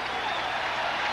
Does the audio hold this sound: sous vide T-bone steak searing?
no